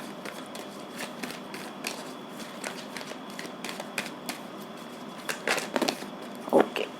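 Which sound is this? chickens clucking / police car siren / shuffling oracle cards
shuffling oracle cards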